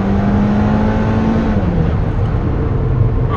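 A turbocharged Alfa Romeo 4C sports car accelerates on track, its engine note loud and close, climbing in pitch, then easing and shifting into a steady harsh drone.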